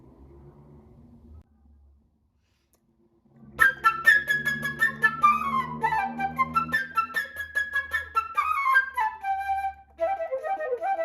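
A flute plays the bird theme from Peter and the Wolf, a quick, bright, trilling melody with fluttering runs over a soft orchestral accompaniment, following a short quiet lead-in.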